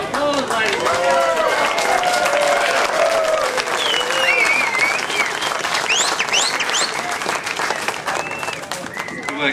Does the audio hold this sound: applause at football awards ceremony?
yes